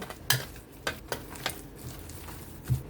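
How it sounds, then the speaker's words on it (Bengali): Soft wet stirring and slapping as a thick kachki fish batter is mixed with chili powder, coriander powder and salt, with several faint utensil taps against the bowl at close range. "লঙ্কার গুঁড়ো এবং ধনিয়ার গুঁড়ো লবণ দিয়ে ভালোভাবে মেখে নিতে হবে।"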